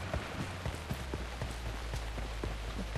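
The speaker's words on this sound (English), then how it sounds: "Oh, now it's raining." Steady rain in PUBG on the Erangel map patters over a surface with scattered sharper drops and light thumps, a constant wet hiss throughout with no voices.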